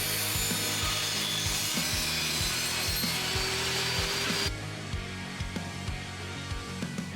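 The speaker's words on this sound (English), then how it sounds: "I just ripped down a piece of hardwood to the right thickness and the right width." A hardwood board being ripped to width with a saw: steady, rhythmic rasping strokes close up, loud and alone, easing slightly quieter over the last few seconds.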